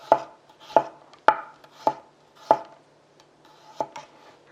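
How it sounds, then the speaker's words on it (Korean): Repeated sharp knife chops thinly slicing garlic on a cutting board, about one every half second, close and clear with no talking. "잘 손질된 마늘을 썰어 보겠습니다 편으로 얄팍얄팍하게 썰어주세요"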